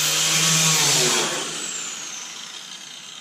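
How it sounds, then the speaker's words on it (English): A power wire wheel spinning against the old spot welds on a 1935–1936 Ford truck firewall, a loud whining grind that tapers off as the tool spins down, heard close and alone. "you're going to take a wire wheel, and you're going to wire wheel all this area to get out the old spot welds"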